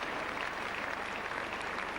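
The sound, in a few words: sympathetic crowd applause at a rugby match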